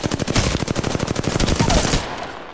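Rapid bursts of gunfire from a Kraber sniper rifle in a video game ring out in a fast rhythmic string, loud and close, then cut off abruptly, with no voices.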